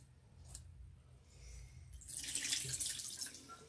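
Water runs from a tap while hair is being wetted, a soft hiss that starts faint and grows to a steady, fuller splashing flow in the second half, close by, with no talk.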